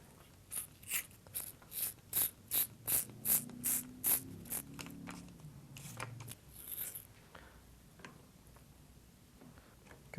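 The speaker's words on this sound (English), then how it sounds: "So we're just going to use tape." Tape pulled and wrapped onto a fishing rod blank during cork handle work, heard as a quick run of about a dozen sharp, evenly spaced ripping pulls, then softer scattered rustles and a faint hiss, close and quiet.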